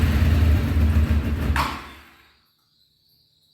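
A 1993 Honda VFR750F motorcycle engine, long sitting, cranks and briefly runs on half choke and half throttle, a loud close rumble that fades and dies out into near silence after about two seconds.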